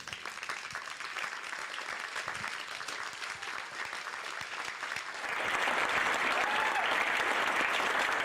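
Audience applause fills a theater during a winter benefit concert, steady clapping that swells and grows louder and denser about five seconds in, sustained to the end with no talk over it.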